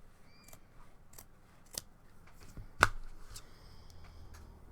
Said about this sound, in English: Will this be the day the scissors break due to the thickness of what we're cutting?